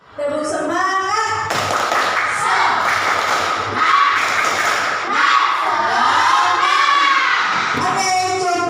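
Classroom of schoolchildren doing a rhythmic spirit clap, loud and steady with shouted chanting voices and thumping throughout.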